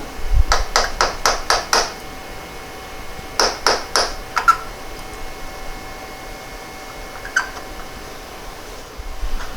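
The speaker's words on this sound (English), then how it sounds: "This pin should drive out." Metal hammer blows knock the float pin from a Polaris 425 ATV carburetor: a quick burst of about six sharp taps, a pause, then another rapid group of four or five, followed by a couple of lighter isolated clinks.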